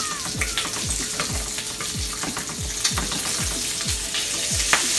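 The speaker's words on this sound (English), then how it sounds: "so now you know that your pancakes, your bacon is cooking" Bacon frying in a pan for a home breakfast, a dense, steady sizzle and crackle with regular low thumps and occasional sharp pops, close and continuous with no voices.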